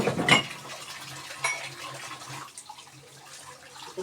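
Dishes, pots and cutlery are washed at a sink, with a loud clatter of utensils near the start, another knock midway, then quieter rinsing and handling, close by with no talk.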